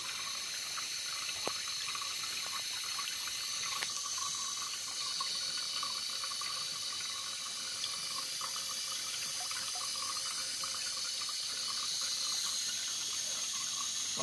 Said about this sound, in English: Could be a little faster, but I don't have my water pressure turned all the way up.